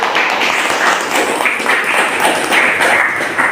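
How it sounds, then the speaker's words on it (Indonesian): A classroom audience applauds a presentation group during a teacher performance test at a university in Jember: steady, moderately loud clapping from many hands, sustained evenly without talk. "Kita kasih aplaus kelompok 1"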